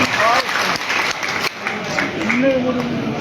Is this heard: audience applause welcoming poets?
yes